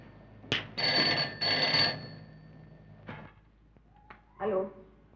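A telephone ringing indoors in two loud, bright bursts, followed by brief knocks and a short voice at the end.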